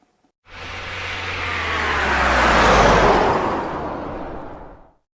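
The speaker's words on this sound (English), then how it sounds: "car," A car passes by in a single smooth swell, rising from silence to a loud broadband rush in the middle and fading away again, with a low engine hum underneath.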